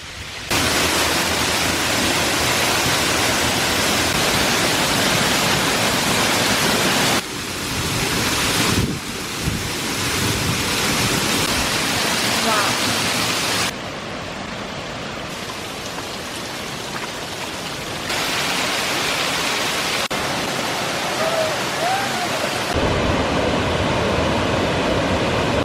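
Waterfall at Rock Island State Park, Tennessee, with water pouring out from beneath rock: a loud, steady, broadband rush of falling water that fills the whole span, shifting slightly in level but never pausing, with no voices.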